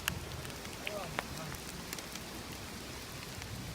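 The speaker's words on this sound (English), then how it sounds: "the rain has caught us out" Steady rain patters on the ground outdoors during a muddy bottle-digging outing, a continuous soft hiss with a few sharper drop ticks, fairly faint and even throughout.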